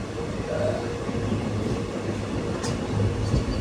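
A passenger train on the Madurai to Bodinayakkanur line, running through coconut groves, gives a steady, close rolling rumble with faint rhythmic wheel clatter throughout.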